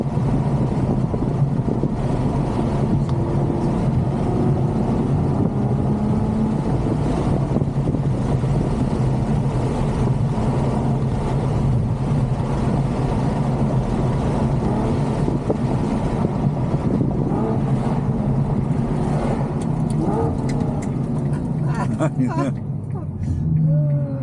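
Ferrari GTC4Lusso cruising on the road, heard from inside the cabin as a constant low engine and road drone with wind rush, while people talk over it most of the way.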